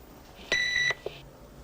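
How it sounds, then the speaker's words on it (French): Answering machine beep, a single short clear electronic tone, fairly quiet, followed by a faint click. "Attendez le bip sonore."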